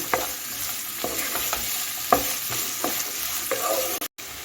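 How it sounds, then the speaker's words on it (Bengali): Chopped onions fry in a pan for an aubergine bhorta, a steady close sizzle broken by repeated scraping and tapping of a spoon as they are stirred. "দেখুন আমি এখন পেঁয়াজটা ভেজে নিচ্ছি"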